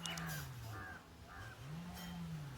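A crow caws repeatedly, loud and close, as it stands at its nest, a few drawn-out harsh calls spaced over a couple of seconds.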